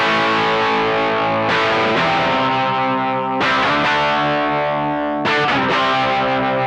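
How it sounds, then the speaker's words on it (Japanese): Loud, gritty overdriven electric guitar through a BOSS BD-2W Blues Driver pedal in standard mode, sustained chords each struck and left to ring, with thick, buzzing distortion and no voices. "すごくね、ザラザラした歪みがですね、ズドーンって出る感じで、非常にパワフルな歪みのキャラクターだと思います"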